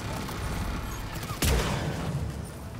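Gunfire in the video game Mass Effect 3 while sniping at turrets: a continuous loud barrage of shots with one heavy blast midway, dense and close, with no speech.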